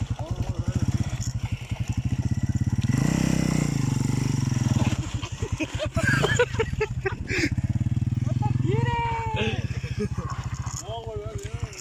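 A motorcycle engine pulses with a rapid, loud, close idle and brief revs while it is worked on, steady for most of the stretch, with people speaking Spanish over it.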